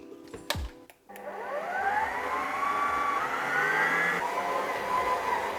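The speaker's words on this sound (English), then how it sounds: "Get your mixer out and attach the dough hook attachment." A stand mixer fitted with a dough hook kneads bread dough for soft milk burger buns, starting after a few clicks with a steady, loud motor whine that rises in pitch and holds, with no talking.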